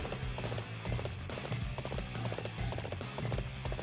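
Horse hooves gallop in Dynasty Warriors 8 Xtreme Legends, a rapid, steady clip-clop rhythm that runs throughout, loud and close, layered over busy game music with no talk.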